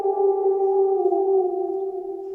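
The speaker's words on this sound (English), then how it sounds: "Wolf," A recorded wolf howl sound effect holds one loud, steady, sustained tone for over two seconds with little rise or fall in pitch, heard alone.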